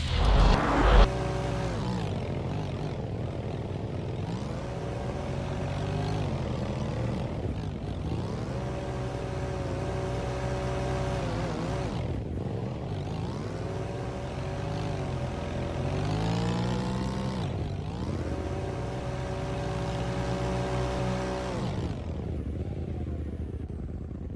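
Speedster race cars racing in an all-star challenge, heard as a continuous, loud engine drone with rising and falling pitch sweeps as the cars pass and shift, lasting throughout with no talk.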